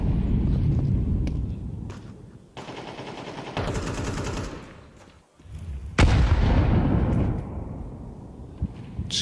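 Grenades explode in Counter-Strike 2 amid gunfire, loud broadband blasts and crackling bursts filling several seconds, with a brief lull midway before a sharp new detonation and fading rumble.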